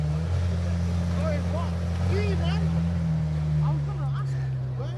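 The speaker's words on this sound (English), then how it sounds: "I don't envy the job of trying to drive a McLaren Senna through a crowd of people, but let's enjoy some idling sounds." A McLaren Senna supercar idles with a steady low engine rumble at a crowded car meet, while voices and crowd chatter carry faintly over it.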